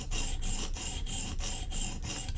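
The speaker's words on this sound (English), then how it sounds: "So I'm kind of tilting my stone like this to get the edge where I want it to get" A Koenig Arius knife is sharpened on a tilted whetstone: quick, even rasping strokes repeat about three times a second, close and loud, with brief gaps between passes.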